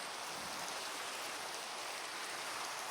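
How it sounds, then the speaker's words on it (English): Steady rain falls in the Minecraft video game, a soft, even broadband hiss that holds without pause from start to end, with no talk over it. "It's raining."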